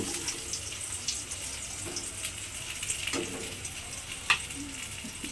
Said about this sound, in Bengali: এবারে আমাকে লাল করে একটু বেগুনটা ভেজে নিতে হবে।